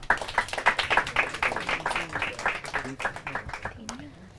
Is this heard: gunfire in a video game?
no